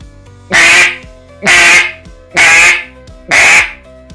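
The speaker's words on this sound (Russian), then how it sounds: "Можно еще вначале добавить удар, как будто кашляем." Four loud, evenly spaced quacks from a Kynat Daardy-2 duck call, each opening with a sharp cough-like burst of breath, about one per second with short gaps of quiet between them.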